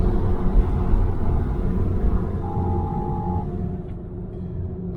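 A BMW 335i with the N54 engine idles with a steady low rumble and a brief tonal whine, its boost leak freshly fixed, heard alone without talk.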